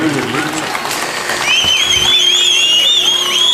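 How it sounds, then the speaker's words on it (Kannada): An audience claps and cheers for two singers at a Kannada music stage show, steady applause building under a loud announcer's voice, with whistling tones riding over the crowd noise. "ಒಂದು ಜೋರಾದ ಚಪ್ಪಾಳೆ ಇವರಿಬ್ಬರಿಗೂ ಬರಲಿ"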